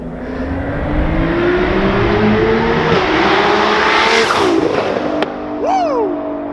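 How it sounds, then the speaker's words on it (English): A tuned Nissan R35 GTR with over 1300 all-wheel horsepower accelerates past outdoors, its engine note climbing loudly, peaking as it passes and fading away, with a whoop from onlookers near the end. "Here comes the GTR right now."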